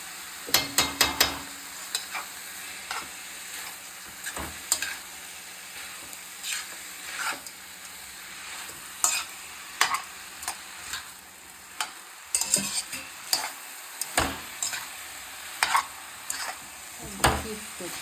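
Mixed vegetables with shirataki noodles fry on high flame, a soft steady sizzle broken by repeated sharp scrapes and clinks of a spoon stirring against the pan, with no talking.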